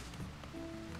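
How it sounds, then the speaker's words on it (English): Rain falls in the RimWorld video game, a soft steady patter of drops on surfaces, quiet and continuous, with a faint low tone entering partway through. "Rainy day."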